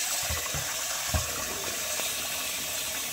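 Running water splashes and swishes steadily, close by, with a few soft knocks as rice is swirled and rinsed in a pot.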